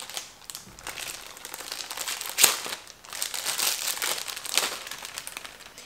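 A Kindle Paperwhite's plastic and cardboard packaging is opened, giving close, quiet crinkling and crackling with a few sharper rustles and tears spread over several seconds.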